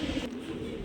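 Rasgolla pigeons, a blue-and-white breeding pair among birds for sale, coo softly and continuously at close range, a low steady murmur without any talk.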